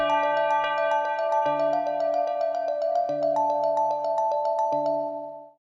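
Tubular bell notes ring out over a sustained bell-like melody in an FL Studio beat, struck at intervals with long shimmering decay, steady and fairly loud before tailing off at the end.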